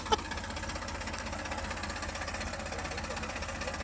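A tractor drives off on a farm with a rapid, even diesel knocking chug that stays fairly steady and moderately distant throughout, with no talk.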